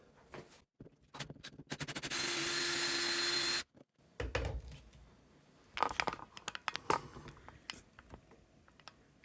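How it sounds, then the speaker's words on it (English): A power drill fitted with a hole saw cuts around a plastic electrical box in a wall, with one sustained whining burst, then scattered knocks, crunches and rattles, heard close. "I'll put this on the drill and drill those out."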